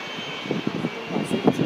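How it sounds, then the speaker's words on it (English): A double-decker four-engine airliner coming in to land gives off a steady, fairly loud engine roar with a wavering low rumble that swells toward the end. "There's a double decker one coming in, one of the H80s."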